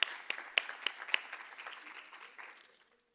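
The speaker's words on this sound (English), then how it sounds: "can we just clap again to acknowledge" A short burst of audience applause at a Youth Month commemoration event, sharp claps at first that thin out and fade within a few seconds.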